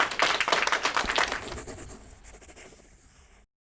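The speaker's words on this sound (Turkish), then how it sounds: "Alkış." Audience applause bursts out loud and close, a dense flurry of claps that gradually thins and fades before cutting off abruptly.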